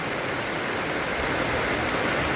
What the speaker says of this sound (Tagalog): Lakas ng ulan. Napot ako ng ulan.